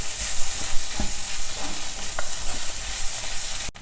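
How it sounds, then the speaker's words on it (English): Bitter gourd fries in a pan with a teaspoon of ghee added, giving a steady, close sizzle with a few scattered soft scrapes of stirring and a brief sharp knock near the end. "For added flavor, I am adding a teaspoon of ghee."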